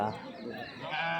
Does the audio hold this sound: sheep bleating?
yes